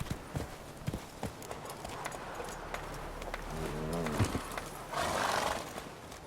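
Roach the horse gallops in The Witcher 3, hooves clip-clopping in a quick uneven rhythm close by, with a neigh midway and a louder rush of sound near the end.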